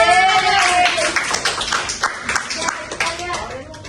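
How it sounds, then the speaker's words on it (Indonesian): A high-school class claps together in a quick patter of hands, with students' voices and talk mixed underneath. "Kita tepuk tangan."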